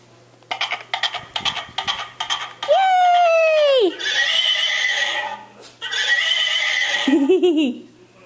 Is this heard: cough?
no